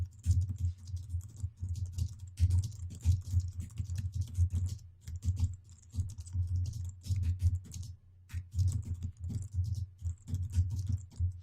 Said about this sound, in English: let me just type in this little message